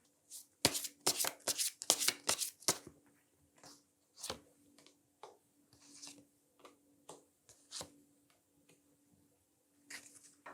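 Tarot cards being shuffled close by: a burst of rapid riffling and slapping at first, then sparser taps and shuffles in uneven clusters against an otherwise quiet background.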